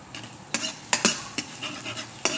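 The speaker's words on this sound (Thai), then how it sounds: "เดี๋ยวจะเจียวกระเทียมก่อนนะฮะ" Garlic frying in a pan for a Thai chili dip, a soft sizzle underneath sharp clinks and scrapes of a utensil stirring against the pan at irregular intervals, close by.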